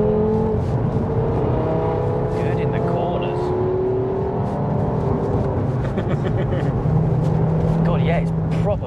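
Audi RS3 8P tuned to 535 bhp, heard from inside the cabin while driving: a steady low engine drone with gear changes and shifting pitch, running beneath people talking.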